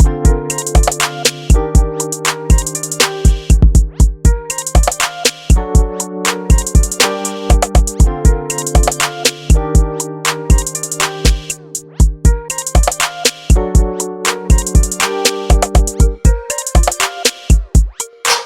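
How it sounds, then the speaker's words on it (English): Electric piano chords play in a steady rhythmic pattern, bright repeated stabs with sustained tones between them, clear and upfront with no voices. "It's just an electric piano."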